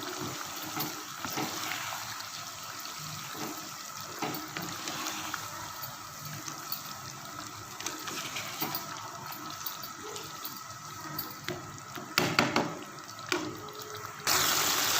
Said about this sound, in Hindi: इसको हम चिकन में मिलाते हैं अच्छी तरह से। इसको हम अच्छी तरह भून लेते हैं।